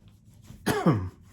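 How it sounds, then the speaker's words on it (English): A single short throat-clearing cough, close and fairly loud, rising abruptly out of near silence and fading within half a second. "I still have that cough."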